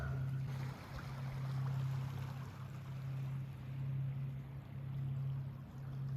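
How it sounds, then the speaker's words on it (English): A low, steady motor drone from a boat on the water at Rennell Sound, Haida Gwaii, British Columbia, in the early morning, faint and somewhat distant, with a soft wash of ambient noise and no voices. "That boat is taking off down the water."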